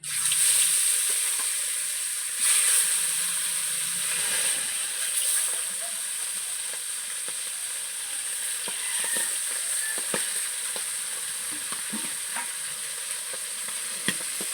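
Tilapia fish pieces fry in hot oil with a loud, continuous sizzle and spitting hiss, punctuated by occasional crackles and soft stirring knocks, no speech.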